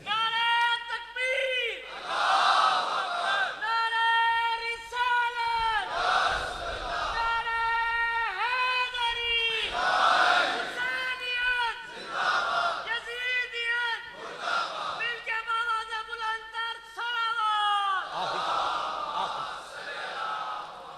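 A crowd at a Muharram majlis chants a religious slogan in loud, rhythmic call-and-response bursts, and a single voice leads each round before the gathered voices answer in unison.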